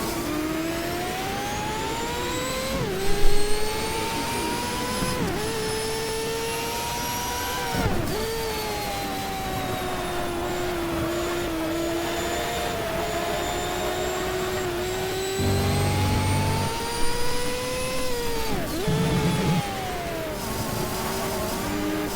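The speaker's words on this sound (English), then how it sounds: "so you can only listen to the engine" Racing car engine at Tsukuba in GTR2 with the Power and Glory mod, a near, steady high-pitched drone rising and falling through gear changes, with sharp downshift dips and revving bursts over the full stretch, no talk.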